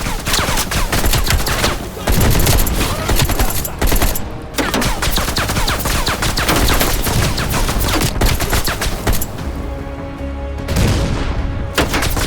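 Heavy, sustained machine gun fire in the campaign of Call of Duty Black Ops Cold War, loud and continuous, broken by a couple of short pauses and mixed with booms and battle noise.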